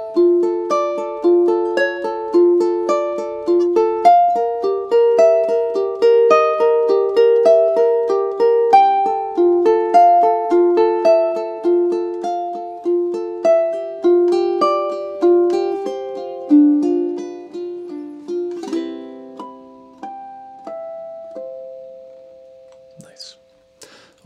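A ukulele plays the final measures of a theme from The Legend of Zelda, bright plucked arpeggiated notes flowing quickly, then slowing and ringing out to a close, played alone and near.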